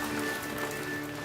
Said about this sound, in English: The rain isn't worrying me too much